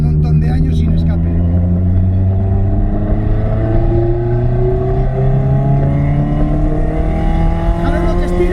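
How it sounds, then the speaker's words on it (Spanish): Ferrari engine fitted with an aftermarket exhaust, revving loud and close in a steady, sustained drone, pitch climbing gradually as it pulls, with a voice talking over it. "Ponle un escape al Ferrari, que te darás cuenta de lo que es un Ferrari de verdad."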